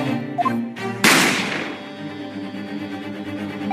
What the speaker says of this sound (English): You heard the gunshot, do you mean?